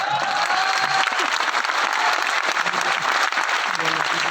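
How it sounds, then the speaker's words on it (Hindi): Audience applause, loud and continuous dense clapping from a crowd that holds steady throughout without pause. "અને હવે તાળી કેમ પાડશે?"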